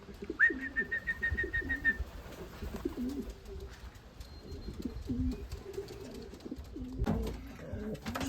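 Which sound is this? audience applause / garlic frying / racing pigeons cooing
racing pigeons cooing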